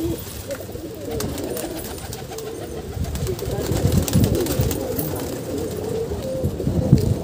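Wild pigeons coo steadily on a city rooftop where they are fed bread, a dense overlapping chorus of low cooing and rustling that builds slightly louder toward the end, with no talk over it.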